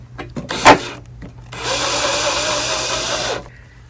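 Power drill driving B1 screws into a hardtop gazebo: a brief knock and a short burst, then a sustained whirring drive of about two seconds, close and loud, with no talk.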